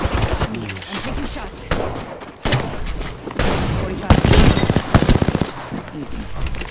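Bursts of rapid gunfire in a battle royale video game, loud and dense with heavier booming volleys, mixed with brief talk over the shooting.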